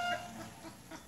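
Pet chickens cluck softly at feeding time, a brief low murmur of clucks at middle distance with no voices.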